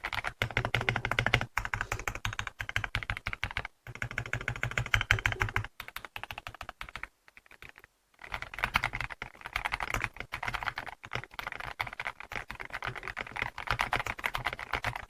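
Rapid, crisp keystrokes on a Honey Bar mechanical keyboard with integrated silicone sandwich filling, typed close up in bursts that stop briefly around the fourth and eighth seconds before the clacking resumes.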